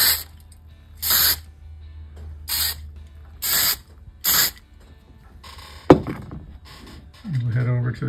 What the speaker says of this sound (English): We'll give it a spray